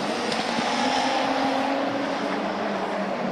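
Two Nissan Silvia S13 drift cars race side by side at a night drift competition in Sochi, a loud, steady engine roar that holds throughout with no talk.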